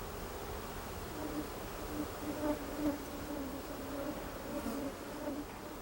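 Honeybees buzz steadily in a continuous, fairly faint drone with a wavering tone throughout, no voices over it.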